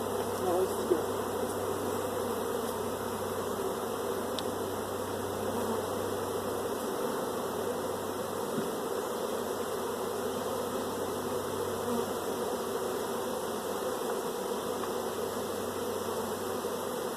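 Large honey bee swarm filling the air with a steady, dense buzzing hum from many bees, constant and moderately loud throughout with no talk.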